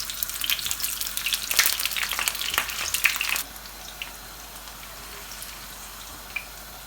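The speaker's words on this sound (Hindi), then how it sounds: "इसी तरह हमने सेकंड बैच भी अपना फ्राई कर लेना है।" Eggplant slices frying in oil crackle and spit loudly for a few seconds, then the sizzle suddenly drops to a faint hiss with a couple of small pops; close, with no talking.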